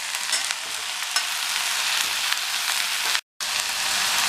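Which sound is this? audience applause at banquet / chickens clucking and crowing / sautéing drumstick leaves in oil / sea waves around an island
sautéing drumstick leaves in oil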